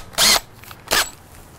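Two short, loud bursts from a power drill fitted with sandpaper, sanding a maker's mark off an arcade control panel part, separated by a brief pause.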